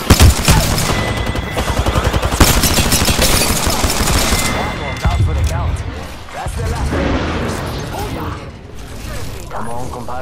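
Rapid gunfire in the Apex Legends video game, loud rattling bursts with mechanical clicks dominating the first half before easing into softer game sounds and clatter.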